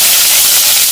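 Sliced onion hits hot mustard oil in a kadai, giving a loud, dense, steady hiss of sizzling that fills the whole short moment.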